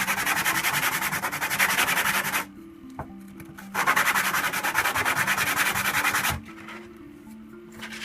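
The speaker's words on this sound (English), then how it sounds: "I'm going to go ahead and sand out those little burrs." Sandpaper rubs little burrs off a firewall mount in two long, steady rasping passes, each a few seconds long, close and fairly loud with a short pause between.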